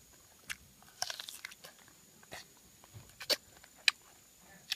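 Crisp, juicy crunches of someone biting into a sweet, sugared star fruit, heard as several sharp close bites followed by softer chewing against a quiet background.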